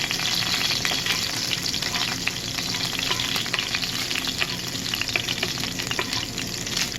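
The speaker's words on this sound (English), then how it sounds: "We're going to toast our garlic in here just a little bit." Chopped garlic sizzles and crackles steadily in hot oil in a pan, with occasional stirring scrapes, close and continuous with no talking.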